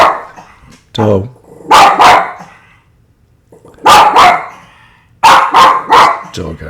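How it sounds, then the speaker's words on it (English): A dog barks outdoors in loud bursts of several yaps, in three clusters separated by brief pauses, with some human voice mixed in. "Oh my God, listen to the dog."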